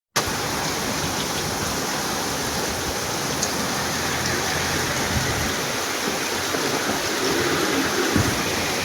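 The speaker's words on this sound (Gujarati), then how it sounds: "જબરજસ્ત વરસાદ ચાલુ થઈ ગયો" Heavy rain pours down in a dense, unbroken roar, loud and steady throughout with no voices.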